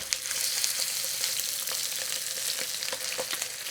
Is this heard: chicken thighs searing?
yes